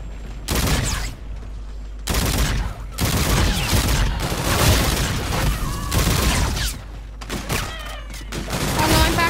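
Gunfire in the zombie game Zombie Killers 2: loud bursts of rapid shots come in several separate volleys, each clattering for a second or two before short pauses.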